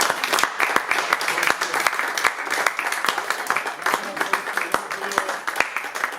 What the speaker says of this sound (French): donc vous pouvez vous applaudir très très très fort